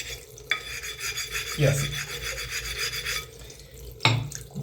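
A heavy diamond sanding plate rasps back and forth along the edges of a Belgian blue whetstone, giving steady scraping strokes with a couple of louder scuffs, close and alone apart from a brief spoken word.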